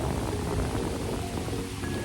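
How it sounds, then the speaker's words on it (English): Rain falling outdoors by Lake Michigan, a steady, even hiss of drops pattering continuously at moderate loudness, heard from beneath a tree. "It's raining, but I'm underneath the tree."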